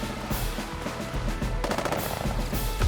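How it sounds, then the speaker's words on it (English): Rapid machine-gun fire from an infantry unit shooting at artillery in the video game Advance Wars 1+2 Re-Boot Camp, a dense, continuous rattling burst at steady volume with no talking. "Now this infantry will continue to take shots at this artillery right here"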